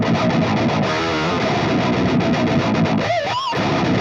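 A distorted electric guitar through an overdrive pedal plays sustained, gritty notes at high volume, with a couple of bending, wavering tones near the end.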